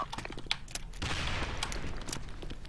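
Rapid bursts of gunfire from the online shooter Sudden Attack in survival mode, a dense fusillade of overlapping shots crackling steadily for a few seconds with no voice over it.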